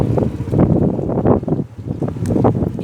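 Gusty wind buffets the microphone outdoors in rough, uneven bursts of low rumbling noise that rise and fall every half second or so, loud and close, with no talk.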